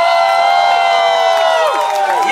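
A club crowd at a break dance competition roars with cheers, whoops and applause, loud and sustained, with shouted voices mixed into the din.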